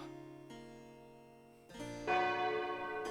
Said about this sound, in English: Nene took her leave as soon as she heard the bell.